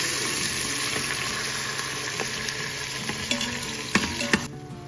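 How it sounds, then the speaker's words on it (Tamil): Finely chopped tomatoes sizzle steadily in a hot pan for aloo rasedar, with a few soft clinks of stirring near the end and no voices. "1/4 கிலோ தக்காளியை பொடியாக நறுக்கி வச்சுருக்கேன், அதை இதோட சேர்த்து வதக்கணும்"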